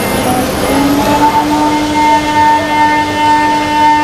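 A 3/8-inch Alumigator roughing endmill ramps at 45 degrees, 0.750 deep, in a Herco machine spinning at 18,000 RPM: a loud, steady, high tonal whine with layered harmonics, running continuously with no talking.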